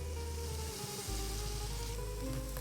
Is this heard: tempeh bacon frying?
yes